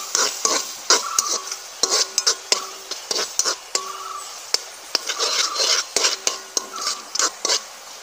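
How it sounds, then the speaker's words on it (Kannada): Ginger garlic paste fries in a pan and is stirred hard, giving repeated rhythmic scraping strokes of a spoon over a soft sizzle, close and with no talk. "ಶುಂಠಿ ಬೆಳ್ಳುಳ್ಳಿ ಪೇಸ್ಟ್ ಹಾಕೊಂಡಿದ್ದೀವಿ, ಅದನ್ನು ಚೆನ್ನಾಗಿ ಫ್ರೈ ಮಾಡ್ಕೊಬೇಕು"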